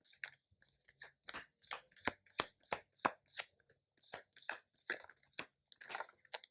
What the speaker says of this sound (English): I've just been shuffling decks